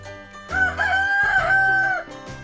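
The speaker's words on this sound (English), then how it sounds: "Roosters wake us with their sound." A rooster crows on a farm: one loud, drawn-out cock-a-doodle-doo with a rising start and a long sustained middle, close up, over a steady low background hum.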